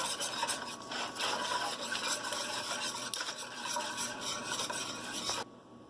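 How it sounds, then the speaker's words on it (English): Flour and broth are whisked in a pot for vegan zuppa toscana, a steady close scraping and swishing that carries on and then stops just before the end. "Give it a good whisk."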